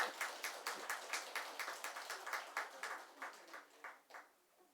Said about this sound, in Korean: 오늘 박수 한번 합시다.